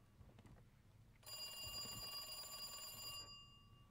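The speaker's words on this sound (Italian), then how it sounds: "Squilla il telefono" A telephone in Resident Evil 2 rings with a single sustained bright electronic bell trill lasting about two seconds, clear and moderately loud, preceded and followed by quiet ambient sounds.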